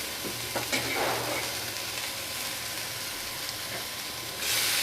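Chopped pumpkin leaf greens fry in a pan with a steady close sizzle, stirred by a spoon with a few scraping knocks, and the hiss swells briefly at the end.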